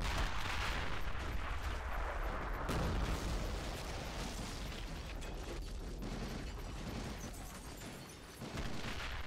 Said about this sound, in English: the French guns back there on the 3rd and final level of the Citadel can be heard in the distance